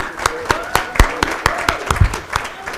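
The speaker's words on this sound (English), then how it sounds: "Let's clap for them." An audience at a human rights defenders awards ceremony claps for the Defenders Coalition. Sharp claps land in a steady rhythmic beat, close and loud, while a voice carries on over them.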